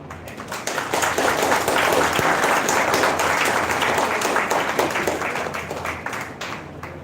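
An audience at a valedictory session breaks into loud, steady applause, dense clapping that holds for several seconds before easing slightly at the end.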